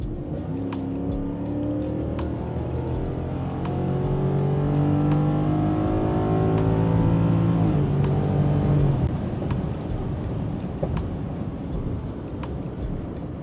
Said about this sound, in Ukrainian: Зараз я на ходу дам газ повний.